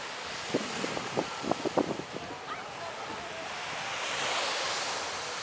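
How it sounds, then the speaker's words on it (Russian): Sea surf rolling onto a beach at a seaside hotel resort in Turkey, a broad steady wash of waves with some wind, a few voices talking briefly at the start. "Море."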